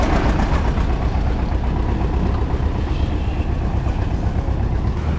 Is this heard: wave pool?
no